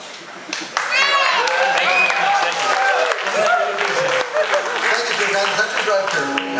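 Live radio show audience at WRFA 107.9's Rolling Hills Radio Show applauding, a loud, dense burst of clapping that builds quickly and holds steady, with voices and cheers rising over it.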